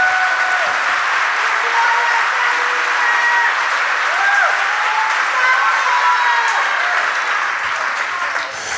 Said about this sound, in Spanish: If you believe that, clap your hands. Si lo cree, dele un aplauso al Señor.